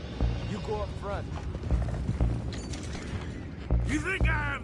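An anchor mechanism creaks and ratchets aboard a boat in Red Dead Redemption 2, with scattered horse whinnies and hoof knocks, under game dialogue in a busy, moderately loud mix.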